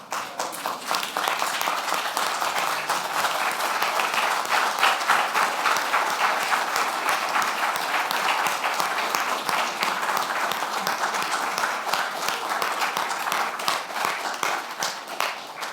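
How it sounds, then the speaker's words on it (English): An audience at an awards ceremony for excellence gives six awardees a loud, steady round of applause, with many hands clapping in a dense, continuous patter that fades slightly at the end. "a big round of applause, please?"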